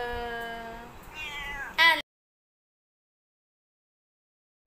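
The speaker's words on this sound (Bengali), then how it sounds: "পোষা বিড়ালটা আমাদের রাজু কি সুন্দর আদর খাচ্ছে।" A pet cat gives a drawn-out, wavering meow, fairly close, ending in a short, sharper cry around two seconds in, followed by silence.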